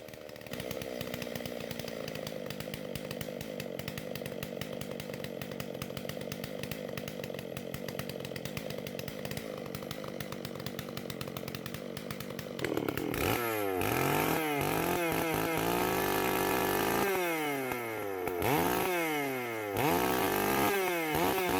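Two-stroke chainsaw milling logs from a dying tree: a long steady idle-to-mid drone, then the engine revs up hard into loud sustained cutting with several dips and recoveries as the chain bites.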